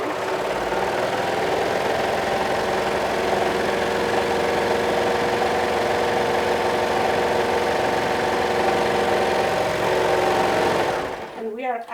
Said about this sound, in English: So now I'm gonna go ahead and sew my sleeves along the vertical raw edge with a 1/2 inch seam allowance.